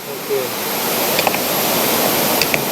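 Steady, loud rush of a jungle waterfall fills the whole stretch, an even broadband roar with a few faint higher flickers riding on top.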